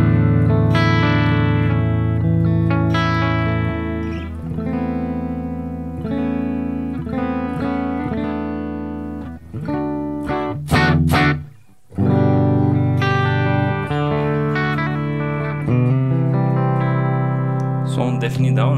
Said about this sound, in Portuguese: Eu vou desligar ele, o delay e o reverb, só pra mostrar bem o clean dele.